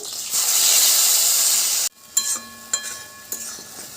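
Spice paste hitting hot oil for doi potol gives a loud, steady sizzle that cuts off abruptly, followed by a few light clinks and scrapes of stirring in the pan.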